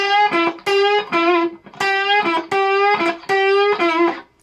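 A slide guitar plays a blues lick in standard tuning with hybrid picking, clean sustained notes gliding between pitches in a steady phrase of about six plucked and slid notes, close and loud with no talking.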